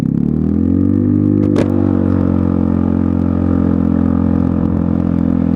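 A Lexmoto Milano motorcycle fitted with a long chrome Lextek AC1 exhaust runs close and loud with a steady, rumbling engine drone and a brief clatter partway through.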